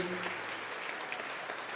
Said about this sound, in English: A huge round of applause to our site admin teams, principals, APs.